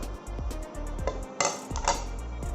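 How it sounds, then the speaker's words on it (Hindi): Peanuts being tipped into a bowl, a quick series of light clattering ticks and a few sharper clinks close by, with no talking. "अब ये जो मूंगफली के दाने हैं वो मैं इस बोल में डाल दूंगी"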